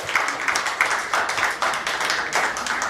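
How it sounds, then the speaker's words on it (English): Audience applause in a black box theatre in Tulsa, Oklahoma, a sustained crowd of many hands clapping in irregular bursts, fairly close and moderately loud, with no voices over it. "Give them a big round of applause."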